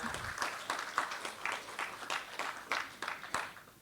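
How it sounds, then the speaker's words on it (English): Audience applause at a fire safety design conference event, a steady burst of clapping from a seated crowd, moderately loud and close, fading slightly toward the end, with no talking over it. "Please give them a big round of applause."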